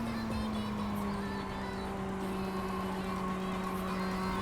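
A race car engine in the iRacing sim, from a Rookie Series race, holds a steady, loud droning note through the clip with only slight pitch change as it powers through a corner.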